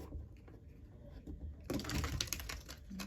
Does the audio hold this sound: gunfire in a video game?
no